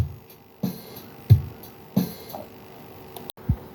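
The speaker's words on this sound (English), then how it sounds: "Generally I like adding my open hi-hats just as the snare plays." Ambient drum loop with low kick thumps and open hi-hats sizzling on the snare hits, a sparse repeating groove with a brief dropout near the end.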